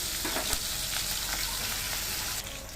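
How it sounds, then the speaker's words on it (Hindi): Sliced onions frying in oil in a pan for paneer do pyaza, a steady dense sizzle with faint crackles and a slight drop in intensity near the end, no voices. "हमने प्याज डाल दी है और अब हम प्याज तलेंगे"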